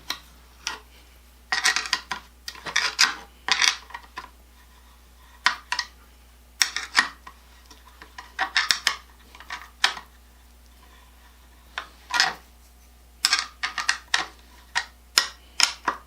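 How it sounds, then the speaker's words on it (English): Screws being loosened on a three-jaw chuck assembly jig for a Craftsman 2A die stock, heard as repeated bursts of small metallic ticking and clicking clusters in a quiet workshop, with short pauses between them and no talk. "I can loosen these screws"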